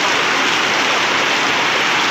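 Heavy rain pours down in a dense, steady roar that fills the whole moment, loud and close with no other sounds breaking through.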